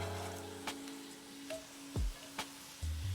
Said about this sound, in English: you can add your diced onions. We are going to let these brown gently and soften